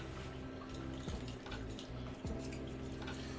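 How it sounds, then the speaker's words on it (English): Water is poured out of a bowl in a kitchen, a soft continuous trickle and splash with a couple of brief clunks, quiet and close, with no talking. "I'm just going to dump a little bit of that water out"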